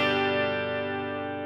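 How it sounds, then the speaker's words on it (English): An electric guitar played through a chorus effect rings out as one thick, shimmering sustained chord that slowly decays, with no talking over it. "the chorus gives it this thickness"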